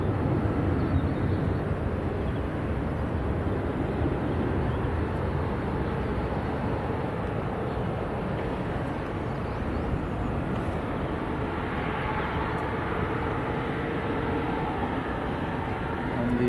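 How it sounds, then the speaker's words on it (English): A Ryanair airliner taxis at Leeds Bradford Airport, a steady broad jet-engine rumble that holds constant throughout without speech. "The Ryanair that has been parked on taxiway November for quite a while is finally moving."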